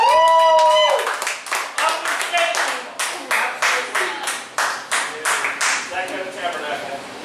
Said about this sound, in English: please give a round of applause to Mills.